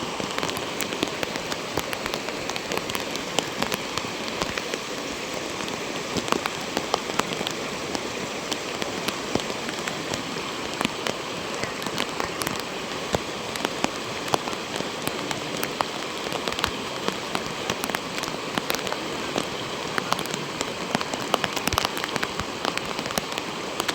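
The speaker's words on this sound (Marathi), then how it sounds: "पाऊस जोरदार लागलाय मस्त" Heavy rain pours down steadily at a village fishing spot, with countless drops pattering and sharp splats crackling on a hard surface close by, no voices.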